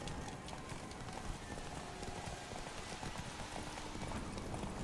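Roach the horse galloping in a Witcher 3 race, rapid steady hoofbeats under a dense wash of rain-like ambient noise, fairly faint and continuous throughout.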